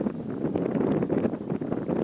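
Steady low rumbling buffet of wind against a microphone inside a car, continuous and fairly loud throughout, with no clear voices.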